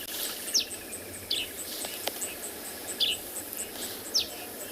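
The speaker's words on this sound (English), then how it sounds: "have a look at this grey-headed sparrow at 12 o'clock. You can hear him just on this little branch in front of us." A grey-headed sparrow calls from a small branch close by on a morning safari in South Africa, giving four short, bright chirps spaced about a second apart over soft insect and outdoor ambience.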